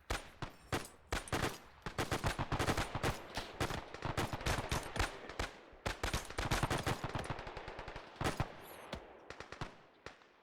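Enemy machine guns rattle in a World War II shooter set on Guadalcanal, with loud, close bursts of rapid automatic fire and scattered single shots running almost without pause.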